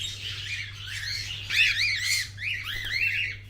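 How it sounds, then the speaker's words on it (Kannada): Pet birds kept at a resort squawk and chirp in repeated harsh bursts, close and fairly loud over a low steady hum. "ಕಾಮ್ ಅಂಡ್ ಕ್ಯೂಟ್ ವಾತಾವರಣದಲ್ಲಿ ಈ ಹಕ್ಕಿಗಳ ಮಧುರ ಪಿಸು ಮಾತು ಕೇಳೋದು"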